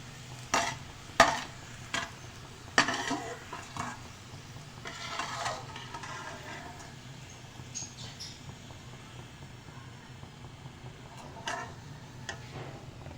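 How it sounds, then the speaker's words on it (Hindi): Onions fry in oil in a pan for pulao, sharp pops and ticks crackling early on before easing into a quieter, steady sizzle with occasional spits. "अभी आप स्पून इसमें बिल्कुल मत हिलाएं ताकि आपकी प्याज अच्छी क्रिस्पी सी फ्राई हो जाए"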